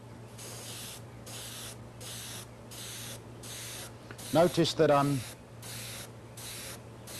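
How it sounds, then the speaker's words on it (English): Repeated short bursts of spray hiss at a steady rhythm as paint is sprayed vertically onto a radio-controlled model aircraft fuselage, each lasting under a second, with someone briefly speaking partway through. "All of my spraying on the fuselage is done vertically"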